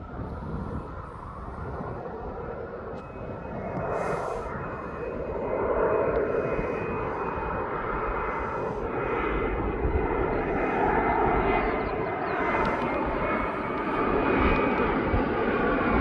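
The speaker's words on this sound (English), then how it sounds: "This fish jet's come from Pomyan." A fish cargo jet at East Midlands Airport roars steadily and loudly, its engine noise building and holding across the whole stretch with a high whine on top and no talk.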